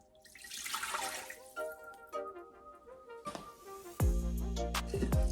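Water pours from a cup into an Instant Pot holding rice, with a little salt added for pressure cooking; a loud, steady splashing pour kicks in partway through after quieter clinks and handling, with no talking.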